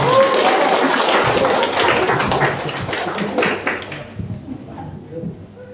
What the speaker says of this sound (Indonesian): Tepuk tangan dulu, saya apresiasi.